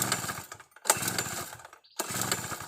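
A small petrol generator engine being started sputters and revs loudly in uneven bursts, cutting out briefly twice before roaring back up, close by.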